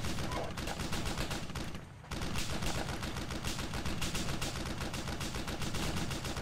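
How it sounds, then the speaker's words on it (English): Sustained machine-gun fire aimed at a tank in the tank simulator game Steel Beasts, a dense continuous rattle that cuts out briefly near the two-second mark and then resumes just as steadily. "Trying to shoot a tank with a machine gun."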